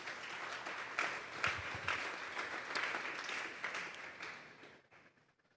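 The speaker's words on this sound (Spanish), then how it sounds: "Denle un fuerte aplauso pues al Señor." Churchgoers at a Sunday afternoon service break into strong applause for the Lord, a lively burst of many clapping hands that swells in waves and then thins out and fades toward quiet at the end.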